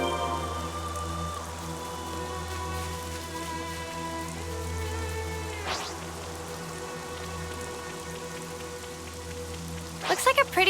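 Steady rain falls in a Xenoblade Chronicles 3 game scene, a constant soft hiss over a low ambient music drone, with a couple of brief splashy bursts near the end.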